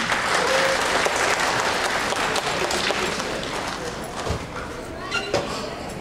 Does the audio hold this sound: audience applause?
yes